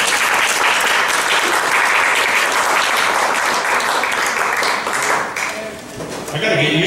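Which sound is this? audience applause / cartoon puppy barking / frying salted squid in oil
audience applause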